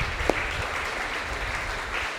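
A congregation in church gives a strong round of applause for Christ during a Sunday service, a dense, steady clapping that fills the room evenly for a couple of seconds, with one sharp clap standing out near the start.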